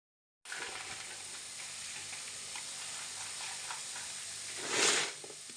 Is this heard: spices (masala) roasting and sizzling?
yes